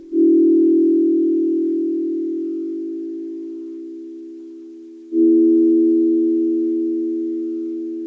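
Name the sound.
Nord Micro Modular FM synth tone sounding like a chord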